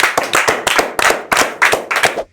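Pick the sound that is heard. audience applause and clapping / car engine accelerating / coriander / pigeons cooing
audience applause and clapping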